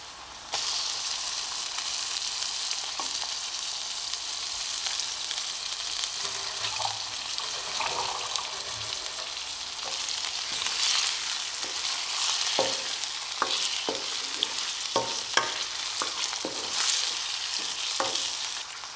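Chicken pieces frying in a pan for chicken karahi, a steady dense sizzle throughout with a series of sharp scraping stirs and clinks growing busier toward the end, close and fairly loud, no voices.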